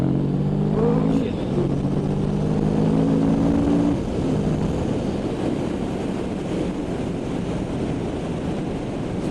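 Kawasaki Vulcan S motorcycle pulling hard in a third-gear roll-on, a loud steady engine drone with a rising tone early on, heavy wind rush over the microphone throughout.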